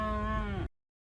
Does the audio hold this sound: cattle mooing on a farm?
yes